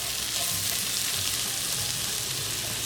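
Onions and mushrooms fry in a pan for a beef-broth loco moco burger gravy, giving a steady, close, continuous sizzle with faint stirring and no talk.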